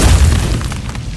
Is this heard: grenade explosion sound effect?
yes